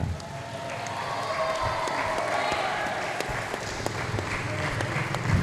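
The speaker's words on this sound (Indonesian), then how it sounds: "Tepuk tangan lagi yang meriah untuk kita semuanya." Studio audience applause at a televised Banyuwangi talk show, a steady, sustained wash of clapping with some crowd noise filling the whole stretch at moderate loudness.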